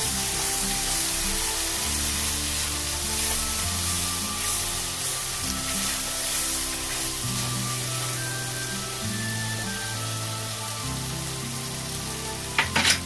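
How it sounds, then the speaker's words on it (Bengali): A spiced mixture for a Mughlai dish sizzles and spits steadily as it is sautéed in hot oil, a continuous close frying hiss under soft background music, with a brief clatter at the end. "দিয়ে এটাকে ভালো করে কষতে থাকবো।"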